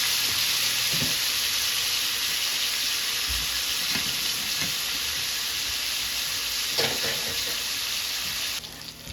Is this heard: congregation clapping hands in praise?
no